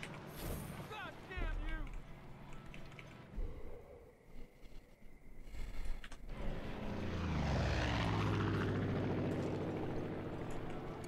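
A propeller airplane engine in the video game Far Cry 5 drones loudly and steadily through the second half, its pitch sweeping as the plane passes, after earlier bursts of game effects and a voice.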